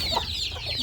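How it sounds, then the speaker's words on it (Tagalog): Small young chickens cluck in a short, close, continuous burst of chirpy calls. "Gagmay pa kaayo mga chicken."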